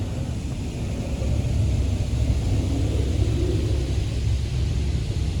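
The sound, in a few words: automatic car wash spraying water on car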